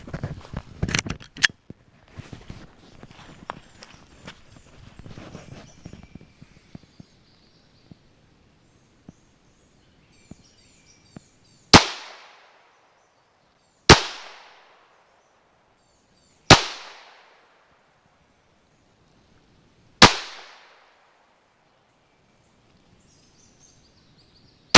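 Smith & Wesson M&P22 .22 pistol shots outdoors, four sharp cracks spaced a few seconds apart, each with a quick ringing decay, after some earlier handling clicks and rustle.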